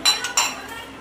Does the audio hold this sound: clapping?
no